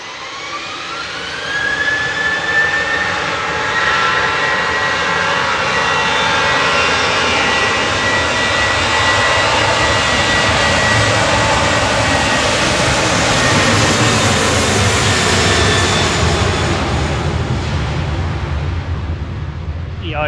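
Eurowings jet airliner on flight 561 to Dublin roaring loudly at Manchester Airport, a close, sustained engine blast with a rising whine that swells and holds for the full stretch before easing off at the end.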